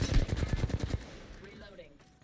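Rapid automatic gunfire in Apex Legends, a dense burst of loud, close shots for about a second, then fading reverberant tail with faint game sounds.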